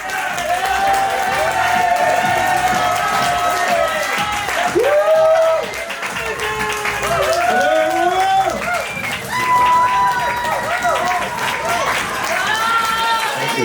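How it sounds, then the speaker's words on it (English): A live audience applauds and cheers for the evening's host at a comedy event, steady dense clapping with whoops and shouted voices throughout, loud and close. "Please put your hands together."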